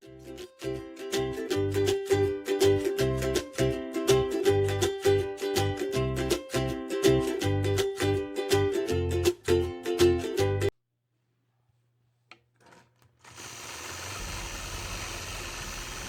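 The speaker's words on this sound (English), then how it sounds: "I'll begin stitching on the left-hand side of the block using my mini 4-in-1 machine quilting ruler." A home sewing machine stitches a quilt block with a quilting ruler, thumping in a fast, regular rhythm for about ten seconds before stopping abruptly. A brief silence follows, then a low steady background noise.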